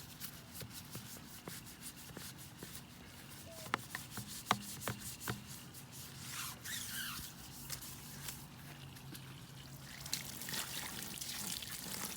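A brush scrubs a ceramic-coated car wheel with only water, giving soft, quiet rubbing and swishing strokes with a few sharp clicks and some trickling, with no voices.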